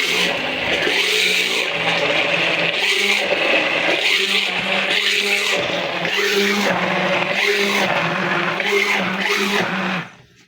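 A loud electric blender whirring runs almost nonstop while blending a pork fat spread, pulsing in short repeated bursts as the pitch rises and falls, then cuts off at the end.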